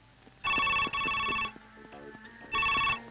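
A telephone rings with a bright electronic ringtone, two loud bursts separated by a pause filled with softer tones and ambient clatter, fairly close and clear with no one speaking.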